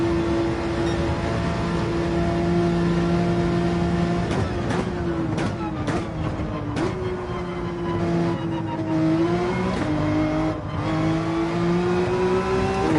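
Race car engine in Gran Turismo 7 holds a steady loud drone, with pitch climbing and dropping through repeated gear shifts and revs across the whole stretch, no talk over it.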